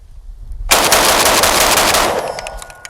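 A JTS AK12 airsoft rifle fed from an SGM Tactical magazine fires a loud, rapid continuous burst lasting about two seconds after a brief quiet lead-in, then a few trailing mechanical clicks.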